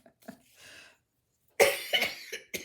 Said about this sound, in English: end up coughing